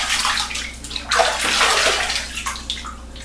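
Water runs and splashes as soap is rinsed off a vintage Gillette safety razor, a close, uneven spray with brief sloshing bursts.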